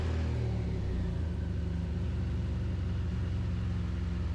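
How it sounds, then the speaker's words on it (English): A BMW GS motorcycle engine idles steadily after being started, a close, even low rumble holding constant throughout with no talking. "Let's check if we've done everything right by turning the bike on."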